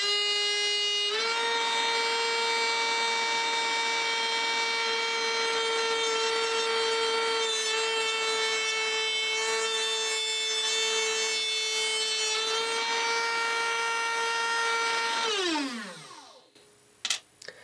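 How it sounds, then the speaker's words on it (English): A Dremel rotary tool, clamped down, whines steadily at high speed while cutting a small ceramic magnet, the pitch wavering slightly under load before spinning down in a falling tone near the end. "I'm gonna try it this way first with the Dremel C-clamped down"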